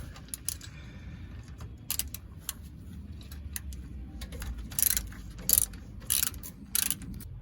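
A ratchet wrench undoes the 13 mm cover bolts on a Ford 8.8 axle of a 2009 Crown Victoria, rapid clicking bursts repeating close by, growing louder toward the end.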